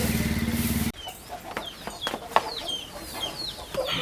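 Chickens cluck and chirp in short scattered calls outdoors after a loud engine hum cuts off abruptly, with the birds fairly close and no one talking.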